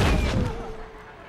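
Expelliarmus spell effect from a Harry Potter film, a loud, close, booming burst that rolls into a fading rumble over about a second.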